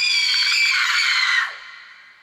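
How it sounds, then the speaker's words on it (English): Blood-curdling scream sound effect in a grimdark audio story, a single loud, sustained high-pitched shriek lasting over a second before cutting off into a fading echo. "It was then that she heard a blood-curdling scream."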